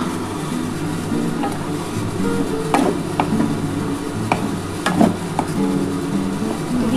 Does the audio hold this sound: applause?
no